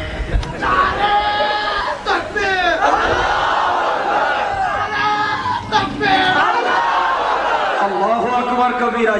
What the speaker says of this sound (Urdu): نئے نئے نعرے آ رہے ہیں.